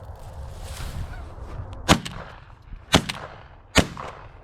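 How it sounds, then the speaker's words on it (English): Three shotgun blasts fired at flying waterfowl during a hunt, booming reports roughly a second apart, loud and outdoors over a rustling breezy background. "They fly over you, shoot at them."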